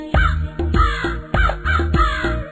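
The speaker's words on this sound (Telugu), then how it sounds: "కాకి కాకి కలువుల కాకి" A crow caws loudly and close by in a steady rhythmic series of about five harsh calls, with no other sounds.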